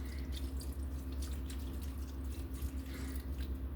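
Chicken stock pours into the inner pot of a 3-quart Instant Pot, a faint, steady trickle and splash of liquid against a low background hum.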